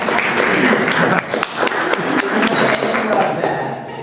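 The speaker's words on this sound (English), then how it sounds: "go ahead and clap if you want." An audience at a Portland community gathering breaks into clapping, a dense close round of hand claps with some heavy thumps, filling the clip loudly while a voice carries on over parts of it.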